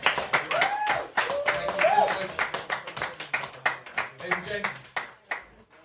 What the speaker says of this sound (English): Big round of applause for all the 3 comics we've seen tonight.